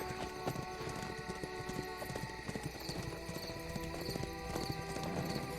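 Horse hooves clip-clop in a steady walking rhythm within a Tolkien-themed video game, the repeated clops sounding over a dense bed of game music and ambience, with no talk.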